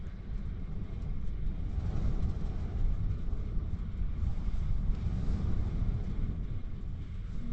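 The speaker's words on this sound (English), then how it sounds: "I don't know if you guys can hear the wind, but oh my gosh." Strong gusting wind buffets a van driving through Kansas, producing a continuous, heavy low roar and rumble that fills the cabin without letup; no one speaks.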